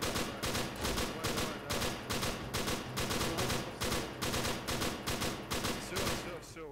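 Sustained machine gun fire in the video game ARMA 3, loud rhythmic bursts of rapid shots repeating steadily throughout with short gaps between volleys.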